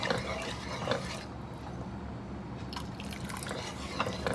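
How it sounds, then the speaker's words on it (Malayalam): Water trickles and drips into homemade Kerala mango pickle, with a close, steady liquid pouring sound and a few splashy drips and no talk. "ഇതിലോട്ട് കുറച്ച് വെള്ളം ഒഴിച്ചു കൊടുക്കണം"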